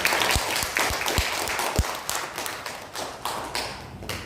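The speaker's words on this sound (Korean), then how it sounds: "하나님 앞에 감사의 박수 한번 드리겠습니다." A church congregation claps in thanksgiving, a mix of distinct nearby hand claps and thumps over a softer spread of clapping across the room.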